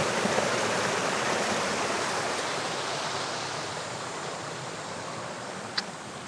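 Talon Bilog twin falls in Barangay Kaymisas, Bailen, Cavite, pours with a constant, loud, close rushing roar of water that stays even from start to finish, with no voices.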